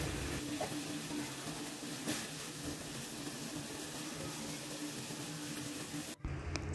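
Chilies, tomatoes and onions boil in a pot, giving a steady, soft bubbling and hissing wash that runs throughout at low level, broken by a brief pause near the end.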